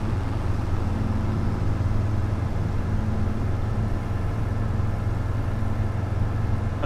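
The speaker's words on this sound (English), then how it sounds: "turn the tractor noises down" Tractor engine in Farming Simulator 25, a steady mid-to-low idling drone that holds constant and loud throughout, with no pauses or talk.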